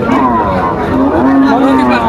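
Cattle at Tepakhola cattle market, a crowded livestock fair, with low lowing calls rising over a constant hubbub of crowd chatter close by.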